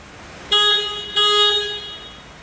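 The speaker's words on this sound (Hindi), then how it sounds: "हॉर्न" Two short, loud beeps of a Maruti Suzuki Swift Dzire car horn close by, the second slightly longer, with quiet background before and after.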